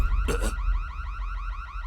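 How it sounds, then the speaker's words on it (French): Electronic alarm signalling a presence in a forbidden zone, a loud, fast repeating warbling tone sounding alone throughout, with a brief noisy burst near the start. "C'est l'alarme qui indique une présence dans la zone interdite."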